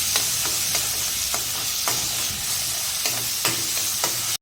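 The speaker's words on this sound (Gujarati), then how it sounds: "ડુંગળી ઉમેરી દઈશું બરાબર તેને સાંતળી લેવાની છે" Onions sautéing in a hot pan for a quick pasta dish, with a steady close sizzle and repeated stirring scrapes every half second or so.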